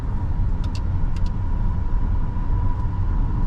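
A 2024 Kia Telluride EX picking up speed, heard from inside as a steady, loud low road and engine rumble with a faint hum, broken by a few brief high ticks.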